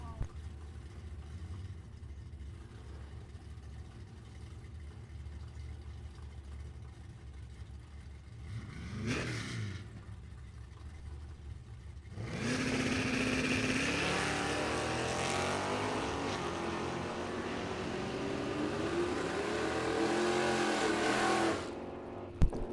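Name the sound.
drag race cars launching, 1966 Chevelle and 1971 Duster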